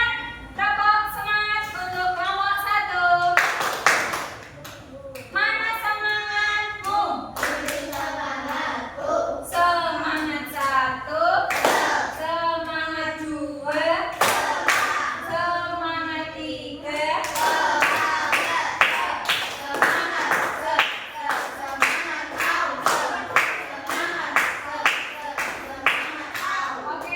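Primary-school class clapping a rhythmic cheer, bursts of patterned group handclaps alternating with children chanting in unison, loud and close throughout.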